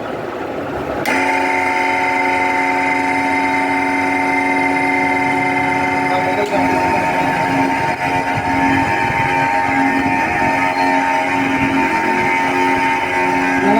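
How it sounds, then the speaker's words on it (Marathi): A venturi injector pump for drip irrigation, driven by a double-battery setup, starts up and runs with a steady mechanical hum and tonal whine that holds loud and constant once running. "ते बघा मित्रांनो आवाज स्टार्ट होतो"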